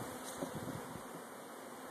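Faint, steady buzzing of honey bees close by while being installed in a hive, a soft continuous insect drone with no voices.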